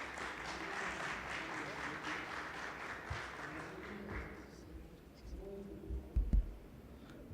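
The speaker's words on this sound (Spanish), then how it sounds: "Fuerte aplauso, por favor." Quiet audience applause at the Electricon 2015 electrical conference rises as a soft, even patter, then thins and fades after about four seconds, leaving a few scattered taps and knocks.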